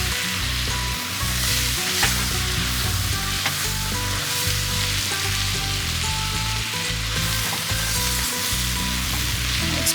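Flour stirred into a chowder base cooks in a pot with a steady, close sizzle, marked by repeated rhythmic scraping strokes of the spoon and no talk.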